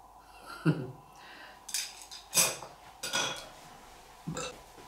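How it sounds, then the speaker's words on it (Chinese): Several short, throaty burps after a meal of fish-head hotpot, in a quiet room, spaced out over a few seconds, mixed with a faint clink of dishes. "这打饱嗝了，现在一吃多了就打"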